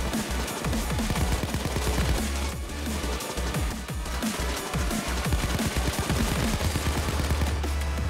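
Dense, continuous rapid gunfire from the video game Payday, a sustained barrage of overlapping shots at steady loudness with no pauses and no talking.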